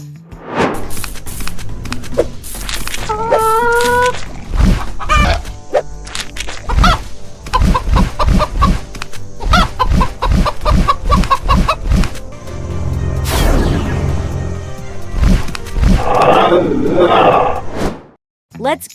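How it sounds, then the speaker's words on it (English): A chicken clucks and squawks in short, loud bursts among thumps and other cartoonish effects, with talking over much of the stretch. "Bingo! Chicken."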